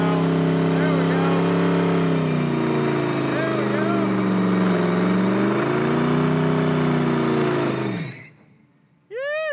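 A pro street car on a road trip revs hard while driving, its loud, steady engine note rising and falling with gear changes, then cutting out abruptly near the end, where a short electronic tone pattern follows.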